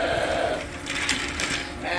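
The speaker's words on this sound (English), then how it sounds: "They're sheep." Sheep bleat amid the ewe-and-lamb sorting and weaning work in a farm pen, giving a short, noisy burst of calls over general barn clatter.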